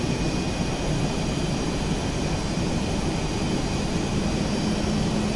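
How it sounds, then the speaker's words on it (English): A military jet's left engine roars while spooling up during start, in a loud, steady, broadband rush, with a faint high whine riding on top and no pauses. "cranking left engine. RPM rising."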